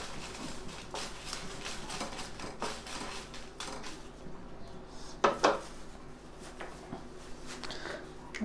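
Dry red chillies tossed in a hot pan with no oil, giving soft, steady scraping and rattling, with a sharper pair of clanks from the pan about two-thirds through; kitchen background throughout.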